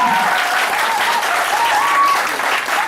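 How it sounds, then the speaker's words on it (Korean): An audience at a political lecture in Incheon applauding a former presidential candidate: dense, loud, steady clapping from a full hall lasting the whole few seconds, with no speech over it. "큰 박수 내주시기 바랍니다."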